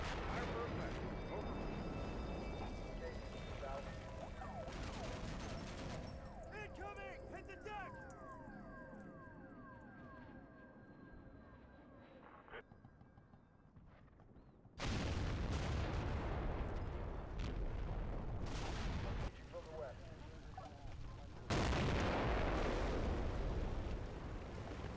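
Missile strikes and explosions ring out in the wargame Combat Mission: Black Sea, with loud booming bursts that break in suddenly after a quieter stretch of distant rumble and mechanical whine, repeating at intervals over a dense background of battle noise.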